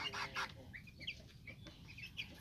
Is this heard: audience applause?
no